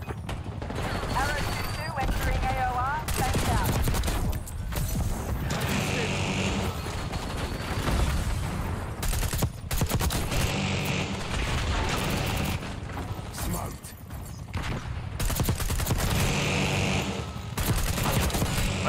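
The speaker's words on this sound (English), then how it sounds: "Taking effective fire." Sustained automatic gunfire from a firefight in Call of Duty: Black Ops 6, including an STG-44 rifle, with dense bursts and booms repeating loudly throughout while players talk over it.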